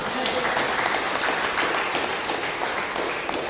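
A church congregation applauds during an Indonesian sermon about the end times. Dense, continuous clapping fills the whole stretch at a loud, close level.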